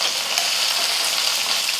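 Drumsticks frying in a pan with sautéed shallots hiss in a bright, steady sizzle, continuous and fairly close, with no voices.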